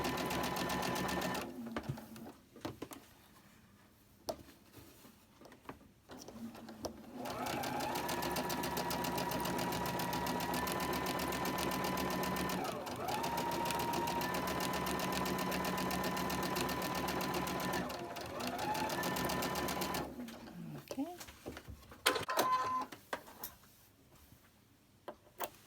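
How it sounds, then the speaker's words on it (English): A sewing machine chain-stitches quilt pieces with a 2.5 stitch length and size 12 needle, running in long steady whirring bursts of rapid ticking, close and clear, separated by short pauses and handling sounds. "I will go ahead and I'll chain stitch this."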